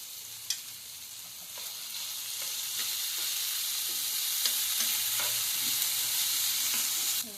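Chopped onion, garlic and capsicum frying in a pan, a soft steady sizzle with occasional scrapes and taps of the spatula, close and fairly quiet, no talking.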